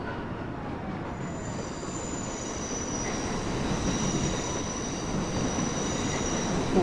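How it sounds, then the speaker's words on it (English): A subway train rolls past in a tunnel in the World of Subways 4 train game, a steady close rumble with high, drawn-out wheel squeal running throughout, with no talking. "Oh, another train passing us by."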